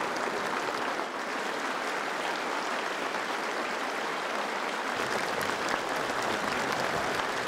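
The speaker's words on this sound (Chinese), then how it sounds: "全场响起长时间热烈掌声" A whole hall breaks into long, warm applause at a reception for Olympic athletes, a dense, even roar of many hands clapping that holds steady throughout with no voices above it.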